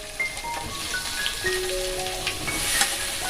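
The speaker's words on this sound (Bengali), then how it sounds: "তেলের মধ্যে এবার গাজরগুলো দিয়ে দেব আর ডিম কড়াইগুলো" Carrots, cauliflower and other winter vegetables hit hot oil in a pan and fry with a dense, continuous hiss and crackle, steady and close throughout with no talking.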